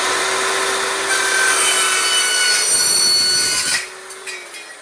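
A hand saw cutting through wood for an outdoor grill platform, producing loud, close, continuous rasping strokes that stop abruptly near the end, leaving faint handling knocks.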